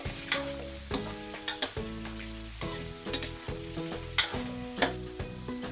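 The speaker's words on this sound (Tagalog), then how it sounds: "At kapag mainit na yung mantika, i-fry muna natin itong shrimp natin" Shrimp fry in hot cooking oil for pancit Malabon with a soft, continuous sizzle and crackle. Repeated stirring scrapes and taps recur every half second or so, and nobody speaks.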